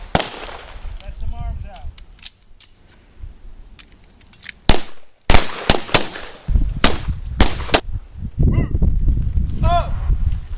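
Pistol shots crack sharply on an outdoor shooting range, loud single reports coming in irregular bursts, mixed with shouted commands and talking.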